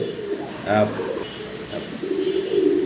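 Afshan grizzle pigeons, a pair with leg rings, give a soft coo near the start, with further low murmuring cooing under a steady background of other birds and faint voices.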